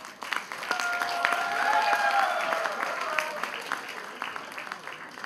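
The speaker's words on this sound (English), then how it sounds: "Round of applause." A seated audience claps steadily at a University of Mumbai felicitation ceremony, a moderate, continuous patter lasting several seconds, with a faint tonal voice or music line drifting over it.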